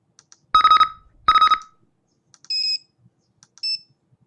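A video game notification chime confirming a good avatar has been made: two bright bursts of ringing tones followed by two shorter, higher electronic beeps, clear and alone with no talk.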